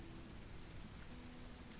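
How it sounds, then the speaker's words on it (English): Steady rain pours through a forest in a video game, a dense even hiss of falling water filling the whole short stretch with no voices on top. "Running through the forest in this beautiful rain."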